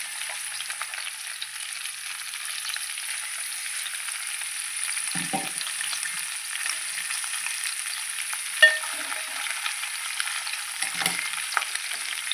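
Ground masala paste goes into a pan of frying tindora, giving a steady, moderate sizzle with a few soft scrapes and one sharp tap, and no one speaking.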